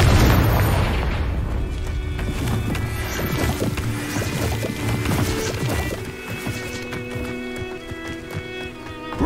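In a Harry Potter video game, a Confringo blasting spell goes off as a loud booming explosion with a heavy rumbling tail that slowly fades, followed by quieter game ambience and a faint animal-like whinny.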